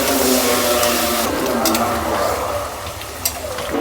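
Papaya pieces frying in a pan give a steady, broad sizzle that is loud at first and eases slightly toward the end, with a brief clatter near the close.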